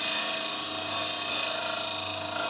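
A 6mm carbide cutter on a hollowing jig spins against wood while an urn is hollowed, giving a steady high whine with a constant low hum and no pauses, close and moderately loud.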